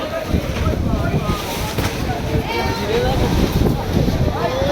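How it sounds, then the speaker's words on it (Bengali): Strong Kalbaishakhi storm wind gusting through a village bazaar after two hours of rain, a loud continuous broadband roar with rustling and flapping from shop coverings, people talking faintly underneath. "দেখুন, কাল বৈশাখী ঝড়"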